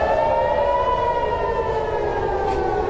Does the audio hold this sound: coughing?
no